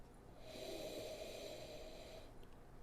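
A long, steady sniff held for about two seconds, drawing in the aroma of a glass of Mermaid Gin, close and continuous with no talking.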